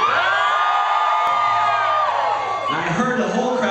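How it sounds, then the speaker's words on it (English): A concert crowd at Rams Head Live in Baltimore roars and whoops in answer to a question from the stage, a sustained loud mass of shouting voices that shifts and swells near the end. "I heard the whole crowd"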